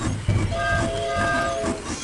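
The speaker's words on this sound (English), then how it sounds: "Except for the train." A cartoon steam train from a children's dinosaur story rumbles along steadily, with a sustained whistle tone sounding over the continuous rolling clatter for the whole short stretch.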